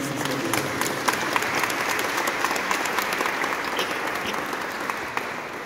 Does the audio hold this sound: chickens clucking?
no